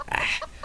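Chickens in a coop give a brief burst of clucking, a few short close calls in quick succession.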